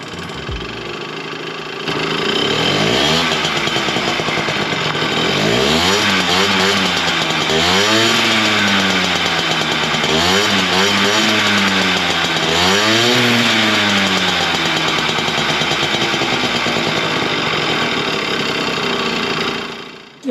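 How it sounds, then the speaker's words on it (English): A two-stroke scooter engine fitted with an RB Works expansion chamber starts and revs loudly and continuously, its raspy note repeatedly rising and falling through throttle blips before dropping away at the end. "let's do one last sound check and enjoy the sound of this really great chamber."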